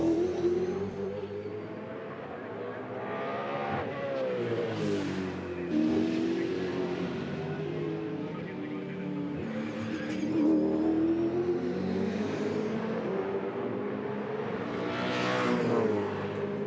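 A 2006 Supercars Championship V8 racing car laps Bathurst alone during the Bathurst 1000, its engine rising and falling through gear changes and revs at moderate distance, continuous throughout with no talk.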